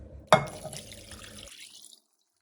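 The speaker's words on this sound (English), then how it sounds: "you want to add some wine to this" Wine is poured over pork marinating in garlic for carne vinha d'alhos, a brief splash followed by a short gurgling liquid trickle that fades out, close and fairly quiet.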